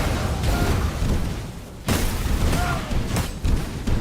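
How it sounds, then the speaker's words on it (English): Explosions pop in the V Rising game, repeated booming bursts layered over a dense rumbling backdrop, with a sharp hit near the middle and another late. "every time it's a chill explosion that's popping"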